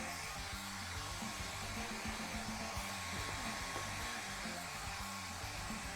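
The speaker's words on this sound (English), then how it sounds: "I really just need to blow dry the bottom part." A hair dryer runs steadily at close range, blow drying the bottom half of a painting, its even whooshing airflow and motor hum continuing unbroken and loud throughout with no speech.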